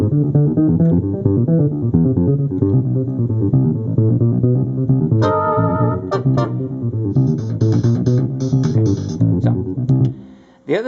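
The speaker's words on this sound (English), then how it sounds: "because it's a Casio chord keyboard, whatever note you play, the bass riff gets transposed to that key." Casio HT-700 chord keyboard plays a steady, loud bass riff with chords and no drum backing, the notes shifting key across the phrase before cutting off near the end.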